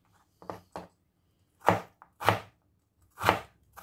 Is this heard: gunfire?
no